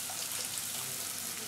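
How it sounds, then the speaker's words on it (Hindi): Water poured into onion and tomato masala frying in a pan for a lauki chana dal, giving a steady broadband hiss and splash throughout, fairly quiet and with no voices. "मैं इसमें थोड़ा सा पानी डालूंगी"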